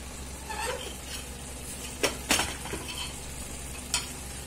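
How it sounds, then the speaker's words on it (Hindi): Faint, steady sizzling as hot tempering is poured over chicken, over a low kitchen hum, with a few sharp metallic clinks from a spoon against a pan. "जो छौंकी यहाँ पे रेडी की हूँ ये डाल दूंगी ऊपर से।"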